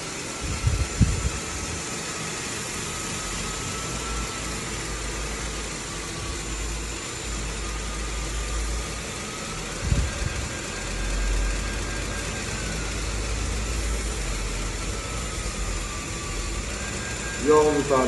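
A Flex polisher spins at low speed with a felt pad under 400-grit sandpaper, giving a steady, continuous motor whir with a faint high whine throughout, broken by a few brief knocks.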